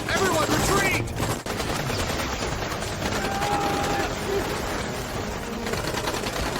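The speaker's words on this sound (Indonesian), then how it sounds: "Para tentara itu pun langsung melakukan serangan tembakan secara brutal kepada monster hiu itu." Heavy, sustained gunfire rattles almost without pause, loud and dense, with a thick wash of other action noise underneath.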